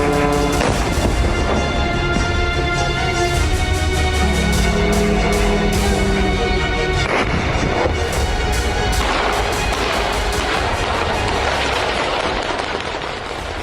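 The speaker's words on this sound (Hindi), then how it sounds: "ड्रोन के बिल्डिंग से टकराने के बाद बड़े धमाके हो रहे हैं" Continuous heavy blasts and rumbling explosions from drones striking residential buildings in Russia, with crackling debris, dense and loud throughout, with repeated booms layering over one another.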